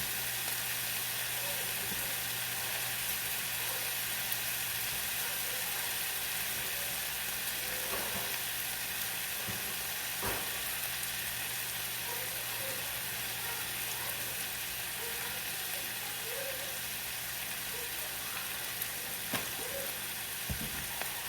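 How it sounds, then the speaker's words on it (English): Sliced vegetables saute in a pan for pepper steak, giving a steady soft sizzle with occasional stirring clicks and scrapes throughout. "the vegetables are sauteing."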